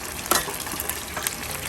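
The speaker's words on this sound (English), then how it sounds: "this is only the first time we're frying it" Steady sizzling and bubbling of chicken pieces frying in hot oil for sesame chicken, with a few sharper crackles and pops rising above the hiss.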